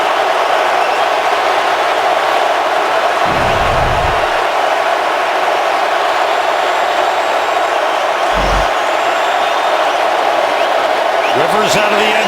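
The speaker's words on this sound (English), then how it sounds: "Let's see what the Chargers come up with here as the crowd gets loud." Loud, steady roar of a crowd at an NFL football stadium during a Chargers at Falcons game near the goal line, broad and sustained throughout with a couple of brief thumps.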